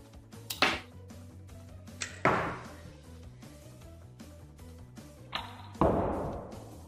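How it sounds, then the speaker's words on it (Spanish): A Crash Bandicoot toy bazooka launches its projectile several times, each shot a sharp snapping thump followed by a brief ringing decay, spaced irregularly over a faint background hum, close to the listener. "El disparo es tan potente que llega a alcanzar hasta 3 metros de distancia."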